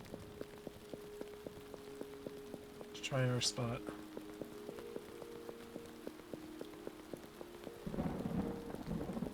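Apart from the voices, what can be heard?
rain and thunder in the video game Felvidek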